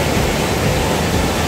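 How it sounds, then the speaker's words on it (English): Waterfall at Elephant Falls pours in a dense, steady roar of broadband rushing water, loud and unbroken with no voices. "I love waterfalls."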